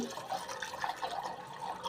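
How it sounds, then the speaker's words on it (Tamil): Water poured into a pot holding peeled garlic, a steady close splashing and trickling fill lasting a couple of seconds with no talk. "இப்போ வந்து நான் தண்ணி ஊற்றி வேக வைக்க போகிறேன்"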